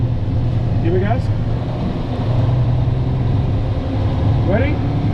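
Car engine revving as a student driver gives it gas during a gear-shifting lesson, a steady close engine drone with brief rising rev sweeps, heard under an instructor's voice.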